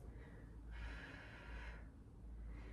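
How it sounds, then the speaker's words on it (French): A single deep breath drawn during a pilates glutes and abs workout, a soft, faint inhale lasting about a second over a low background hiss. "Une dernière respiration."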